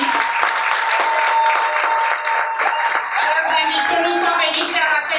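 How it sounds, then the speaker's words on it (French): Wedding guests applaud the couple at a French civil ceremony, a dense, steady wash of many hands clapping close by that lasts the whole stretch, with voices and tonal sounds mixed in underneath. "On l'encourage avec des applaudissements."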